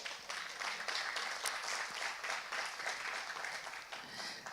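Sustained audience applause for the youth group at a church confirmation service, a steady wash of clapping heard from some distance, fairly quiet.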